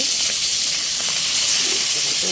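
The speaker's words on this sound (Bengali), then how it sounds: "মাছগুলাকে তেলে হলুদ আর লবণ দিয়ে দিচ্ছি, আর এখানে রান্না করতেছি" Fish seasoned with turmeric and salt frying in hot oil, a steady close sizzle and hiss that runs unbroken throughout.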